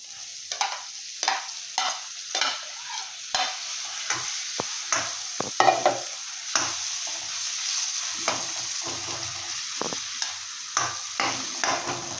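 Garam masala, turmeric and dry chilli powder roast in an oiled pan for a prawn curry: a soft continuous sizzle under frequent, rhythmic spatula scrapes and taps, heard close by.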